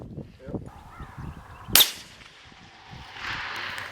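A single shot from a suppressed large-bore precision rifle, a sharp crack at a distance followed by a short rumbling tail, with faint outdoor background around it.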